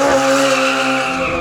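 A McLaren 720S with traction control switched off squeals its tires in one sustained, loud, tonal screech with engine noise underneath, close and uninterrupted.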